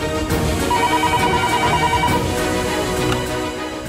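A telephone rings indoors in a Bengali TV serial scene, a steady bright electronic tone pulsing for several seconds, loud and alone.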